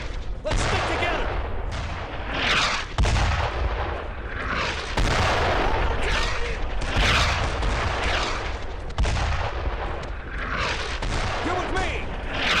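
Heavy gunfire and booming blasts fill a World War II battle in the video game Brothers In Arms: Road to Hill 30, with near-continuous loud volleys, shouted voices mixed in throughout.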